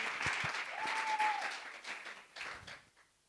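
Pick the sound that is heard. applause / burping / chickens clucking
applause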